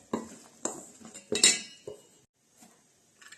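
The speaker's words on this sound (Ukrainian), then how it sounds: "картоплю з кабачком і спеціями і зеленню перемішали" A spoon scrapes and clinks against a bowl while mixing potato, zucchini, spices, herbs and a little oil, in a handful of irregular strokes, close and fairly quiet, with brief pauses between them.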